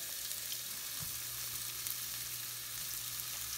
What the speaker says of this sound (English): Now I'm gonna lay my shrimp in there. I'm gonna grill these up